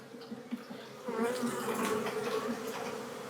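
Honey bees from an opened hive during an inspection drone in a steady, dense buzz that swells louder after the first second and holds close and continuous, with no voices.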